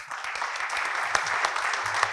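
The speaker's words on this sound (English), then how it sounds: "A round of applause," Steady applause from a panel discussion audience, moderately distant and continuous, a few sharper claps poking through the wash of hands.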